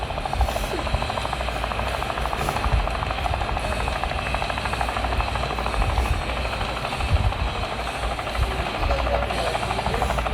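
A steady, loud helicopter drone with rapid rotor chop and engine whine runs continuously throughout, unchanging and close, like game audio.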